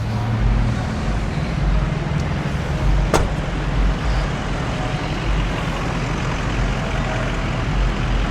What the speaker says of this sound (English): In reverse, giving it just a little bit of gas.